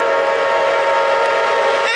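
A CSX freight train runs southbound with its horn sounding, a loud, steady, sustained blare with a constant rumble beneath, close and unbroken throughout.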